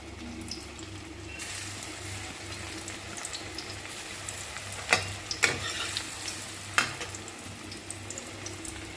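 Balls of jackfruit kofta mixture fry in oil in a pan over medium heat, a steady sizzle that swells after a moment, with a few sharp utensil clinks midway and no talk.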